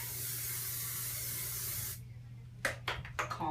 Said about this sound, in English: will spray the back of the hair to keep all these little flyaways